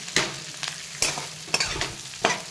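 Stuffed brinjal curry fries in a pan, with sharp spoon-against-pan scrapes roughly every half second to second over a steady, close sizzle; no voices.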